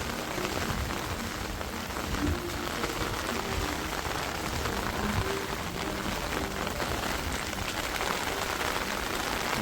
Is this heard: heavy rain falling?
yes